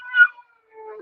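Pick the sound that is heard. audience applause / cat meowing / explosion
cat meowing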